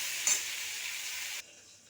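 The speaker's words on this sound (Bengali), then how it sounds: "সবজিটা ভাজা হতে হতে আমি ওইদিকে মশলাটা রেডি করে নেব" Vegetables sizzle steadily in hot oil, a dense, even frying hiss with a brief louder burst early on before it drops away abruptly to a quieter background.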